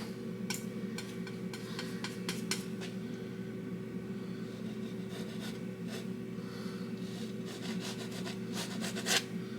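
A brush rubs oil paint onto canvas in Bob Ross-style landscape painting, a soft, steady scrubbing texture that continues throughout with scattered faint taps, close and fairly quiet.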